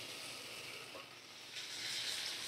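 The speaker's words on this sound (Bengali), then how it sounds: "সয়াবিন আলু কষা মশলাটা 2 মিনিট একটু ভালো করে কষিয়ে নিই" Soybean and potato masala fry in a pan with a soft, steady sizzle and hiss that swells slightly toward the end, faint and close, with no voices.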